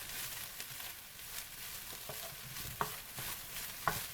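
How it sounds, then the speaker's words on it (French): Beaten egg being stirred into Cantonese fried rice in a hot pan, a soft continuous sizzle with scraping utensil strokes and a couple of sharp clicks against the pan, fairly quiet and close. "Et on remue."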